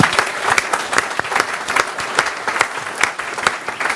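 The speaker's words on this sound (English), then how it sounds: "a round of applause for our candidates" Audience at the Auckland Central candidates debate clapping for the candidates, a dense sustained round of applause from a modest crowd, fairly close and even throughout.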